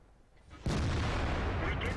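The ISU-152 tank destroyer's main gun fires in World of Tanks with one sudden, heavy boom after a quiet lead-in, followed by a loud, sustained rumble that fills the rest of the moment.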